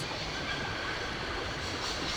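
A train in the Syberia PC adventure game, sitting by a barge on the water, gives off a steady rumbling rail noise with a faint wheel hiss that runs the whole time, with no talk.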